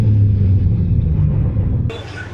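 A BMW G80 M3 is floored in third gear on a wet road with traction off, its wheels spinning, giving a loud, steady low engine rumble heard from inside the car that drops slightly near the end.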